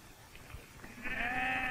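A sheep gives a single short bleat near the end, fairly clear, following quiet rustling background.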